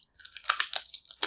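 Crunchy chewing of Brazilian peanut brittle (pé de moleque), a close run of irregular, crackly bites and grinding crunches, moderately loud and with no talk.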